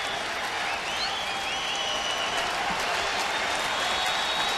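A big Friday night baseball crowd at an Astros home game against the Rangers cheers and applauds in a steady wash of noise, sustained and even throughout, with faint whistles rising above the roar.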